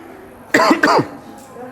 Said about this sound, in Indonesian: Bapak lagi batuk ya, jadi suaranya kurang keras